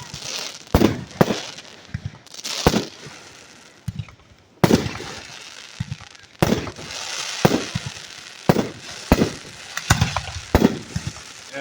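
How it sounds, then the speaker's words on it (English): Fireworks burst directly overhead at a July 4th display in Wisconsin, a series of loud, close, sharp bangs and crackles arriving irregularly, each followed by a brief rumbling decay. "See the pretty fireworks?"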